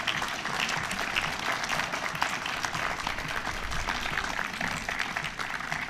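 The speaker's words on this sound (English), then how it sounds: "So if we can give Congressman Gary Peters a round of applause for that." An audience at an elementary school tribute event applauds for Congressman Gary Peters, with continuous, even clapping throughout.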